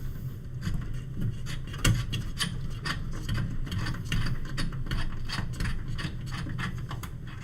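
Screws being removed from an old 68k/PowerPC computer, a close run of small clicking ratchet and scraping sounds in quick uneven succession, with a rubbing metallic texture throughout.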